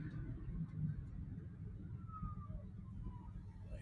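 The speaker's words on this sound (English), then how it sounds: "I hear an ambulance." Ambulance siren wailing in the distance across Cleveland streets, faint rising and falling tones over the low rumble of nearby car traffic.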